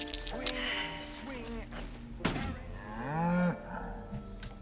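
A cow in the Druids' Grove of Baldur's Gate 3 lets out several drawn-out moos, loud and close, mixed with game ambience.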